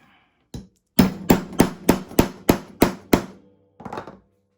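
A hole tap is struck with a hammer to punch a hole in a satchel bag, giving a single knock followed by a quick run of seven sharp, evenly spaced thuds and a final softer tap, close and clear.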